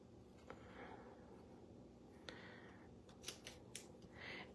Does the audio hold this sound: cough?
no